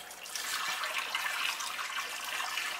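Water draining off a batch of acorns being washed, a steady close trickling and splashing rush that runs without a break and with no talking.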